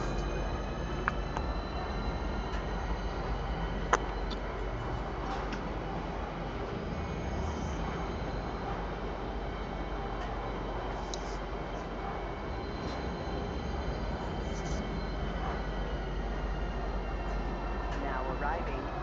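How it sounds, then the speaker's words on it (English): A train pulls into Tisa Spaceport in Star Citizen with a steady, loud rumble of engine and rail noise, broad and continuous from start to end, while voices carry on over it. "Please watch your step when disembarking the train."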